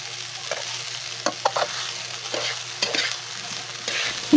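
A spoon stirs ingredients in a frying pan in soft intermittent scrapes and taps over a quiet, steady sizzle, close up with no talking.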